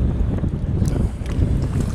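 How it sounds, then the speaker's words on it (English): Strong wind buffets the microphone on a shark-fishing boat off the Florida Keys, a loud, continuous rumbling roar with gusty swells throughout. "A little breezy out here in case you can't hear it."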